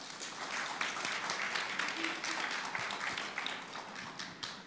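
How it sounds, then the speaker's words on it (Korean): A church congregation gently applauds to welcome a speaker up to share about a Pathfinder nature expedition, with a soft, continuous wash of clapping heard from a distance throughout. "박수로 환영해 주시면 감사하겠습니다"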